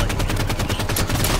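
Rapid automatic gunfire from a video game, a loud, unbroken stream of evenly spaced shots rattling throughout.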